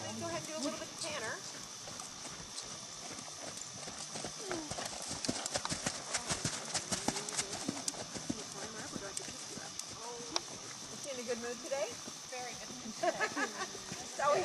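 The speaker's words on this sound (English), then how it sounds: "why don't you go ahead and do a little bit of canter" A horse canters in a clinic arena, hooves clip-clopping in a rhythmic beat under steady coaching talk, with occasional snorts and creaking tack.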